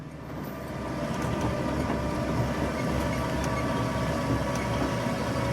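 A tram rolls steadily through a garden with a continuous low rumble and faint rhythmic clatter, close and fairly loud throughout, with no talking.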